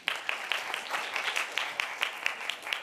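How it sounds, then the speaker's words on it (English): An audience at a school speaking contest for grade 4 students claps: many hands patter densely and steadily, with slightly louder accents in a loose rhythm over a short burst of applause. "Let's give Ken another round of applause."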